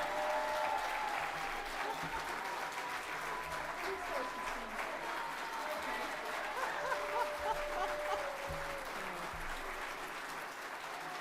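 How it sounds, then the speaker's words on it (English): A gala crowd gives a sustained round of applause, soft and fairly distant, steady dense clapping lasting over ten seconds with scattered chuckles and murmuring voices underneath. "let's give her another round of applause"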